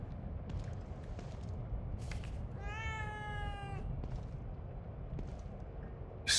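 A single drawn-out cat meow sounds clearly over a low ambient rumble in The Evil Within 2, with faint clicks and thumps around it.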